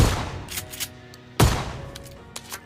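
Two sharp shotgun blasts ring out in a PUBG battle royale match on the Erangel map, a second and a half apart, each with a hard crack and short decaying tail, followed by fainter distant shots.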